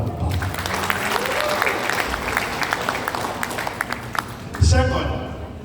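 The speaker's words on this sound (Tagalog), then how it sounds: "Dapat naman natin yung bigyan ng masigabong palakpak." Audience applause at a Cabuyao Lions Club gathering rises as a continuous patter of clapping beneath someone talking over a microphone, with a louder thump near the end.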